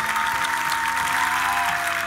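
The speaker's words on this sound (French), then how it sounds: "Applaudissements pour Kevin, s'il vous plaît" Audience applause for a singer named Kevin at a singing contest with a jury: a dense, steady wash of many hands clapping together, loud and sustained throughout with no gaps.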